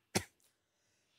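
A single short, sharp cough close by, a quick burst that fades fast, followed by near silence with a faint breathy trace.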